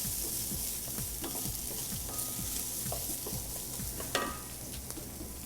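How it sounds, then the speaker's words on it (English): Risotto rice toasting in a hot pan sizzles and crackles steadily, with scattered ticks and a few scraping stirs, close and alone. "Rice is toasting up nicely."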